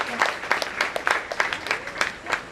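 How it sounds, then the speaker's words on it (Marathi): Loud, close clapping from guests at a family sangeet celebration, an uneven burst of sharp hand claps over a couple of seconds, with voices mingled in. "एकदा या परिवारासाठी एकदा जोरदार टाळ्या होत्या"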